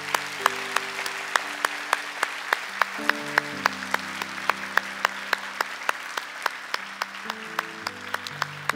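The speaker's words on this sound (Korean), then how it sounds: "우리 박수로 격려해 주시기 바랍니다" A church congregation at a young adults' worship service claps steadily in a rhythmic beat for about nine seconds, with sustained keyboard chords ringing underneath.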